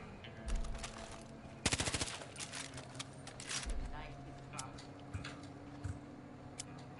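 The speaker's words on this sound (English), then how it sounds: "Oh, that gun sounds evil" Automatic gunfire in the video game Far Cry 5, heard as quick rattling bursts and scattered single shots at moderate distance, mixed with game ambience and a voice talking faintly underneath.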